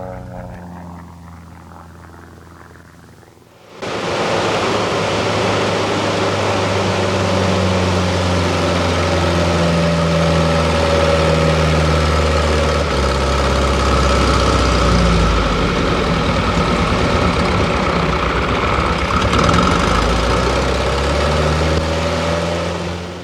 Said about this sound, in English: listen to the sound of the engine bleeding off in the stall